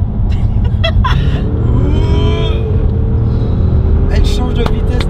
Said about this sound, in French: Elle change de vitesse tellement rapidement avec la boîte.